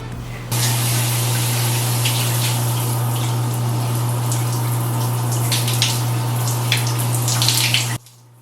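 Tap water runs steadily over hair in a bathroom, a constant close hiss and splash that starts abruptly, carries on with small spattering bursts and cuts off near the end, all under a low electrical hum.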